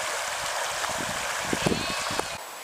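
A river rushes beside a campsite in Wales, a broad, steady gurgling flow close by with small splashes and bubbling running through it.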